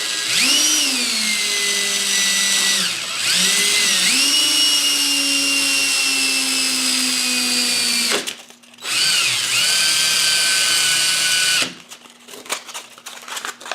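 Cordless drill spinning a plastic yoyo while sandpaper is pressed against it, a loud steady high whine that dips twice and cuts out near the end, then restarts briefly.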